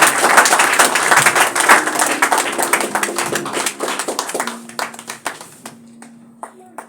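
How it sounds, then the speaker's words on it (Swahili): A church congregation claps and applauds loudly and densely at first, then the clapping thins into scattered, separate claps that gradually die away. "Pigia Yesu makofi ya kula."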